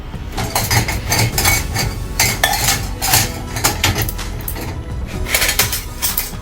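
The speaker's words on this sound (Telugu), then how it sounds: "కప్స్ కూడా పెడుతున్నాను నేను" Cups and glasses go into a home dishwasher rack with repeated clinks and clatters of crockery and steel, close and busy, arriving in uneven bursts with no talk.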